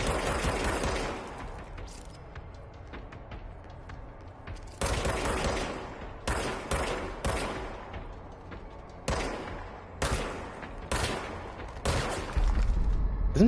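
Bursts of gunfire in the video game Control, with loud rapid volleys of shots repeating in clusters separated by brief pauses, close and dominant with no talking.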